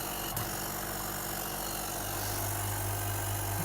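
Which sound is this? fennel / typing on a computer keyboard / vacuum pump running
vacuum pump running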